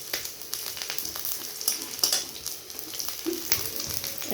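Garlic frying separately in hot oil in a pan, producing a continuous close sizzle with crackles and stirring scrapes, loud and steady with no voice.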